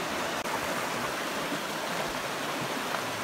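A river rushes at a trail crossing on a hike to the Bridge to Nowhere, a steady, full wash of flowing water close by, unbroken and without voices.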